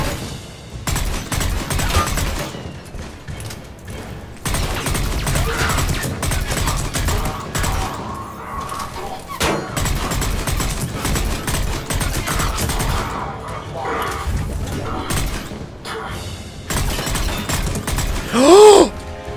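Video game gunfire from Mass Effect 3, dense bursts of shots and impacts running nearly the whole time with brief gaps, loud and close, with groans and a short rising whine near the end.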